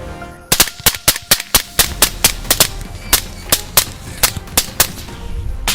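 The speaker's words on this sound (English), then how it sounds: "Gunfire erupted all around them, sealing off every possible exit." A rapid series of loud, sharp gunshots cracks out nearly twenty times in quick, uneven succession at night, close by and echoing, as a farmer chases wild boars; no talking.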